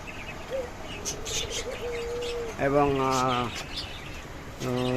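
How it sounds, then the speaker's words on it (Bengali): Caged diamond doves and cockatiels at a bird seller's stall give soft chirps and low coos close by, mixed with a voice speaking over them. "এটা হচ্ছে যে ডায়মন্ড ঘুঘু অনেক সুন্দর এবং ককাটেল পাখিও আছে"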